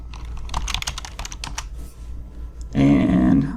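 Computer keyboard typing, a quick run of crisp keystrokes over about two seconds, close and clear, followed by a louder burst of other sound.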